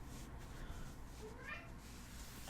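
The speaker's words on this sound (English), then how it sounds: "You can hear my cat, by the way." A pet cat meows faintly in a quiet room during an ASMR makeup session, one short rising call near the middle over soft background hiss.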